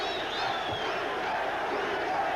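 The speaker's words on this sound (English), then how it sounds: "One by one, row by row, they stand and start that chant." A boxing crowd at the Wilfredo Benitez versus Carlos Palomino fight rises row by row in the final round and chants the fighter's name, a dense, continuous roar of many voices.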